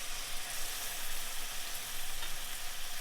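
A ground spice paste fries in hot oil with chilli powder and turmeric for a Bengali fish curry, giving a steady, soft, even sizzle heard alone throughout.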